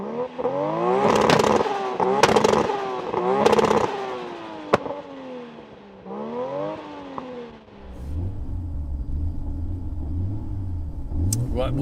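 Tuned high-horsepower sports cars, a Toyota Supra or Nissan GT-R, rev hard in repeated loud bursts with falling pitch sweeps, then settle into a steady rumbling idle, with voices talking over parts of it.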